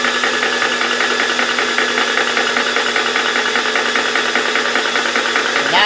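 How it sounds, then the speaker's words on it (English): A Vevor PCP high-pressure air compressor pump runs steadily throughout, a loud continuous mechanical drone with a fast knocking, rattling pulse and a cooling-fan whir underneath. "start the pump."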